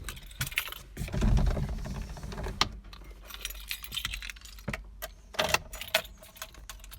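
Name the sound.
car keys jangling, starting Metro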